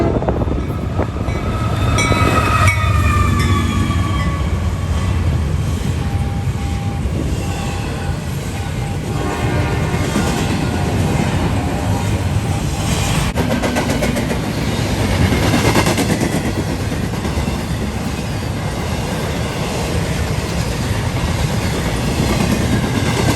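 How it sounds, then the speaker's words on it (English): An intermodal freight train led by AC44C6M and ES44AC locomotives rolls past close by, a loud continuous rumble of wheels and cars with rhythmic clickety-clack and occasional squeals. "Next train up behind 22X was another intermodal, with an AC44C6M and a -944CW leading the way."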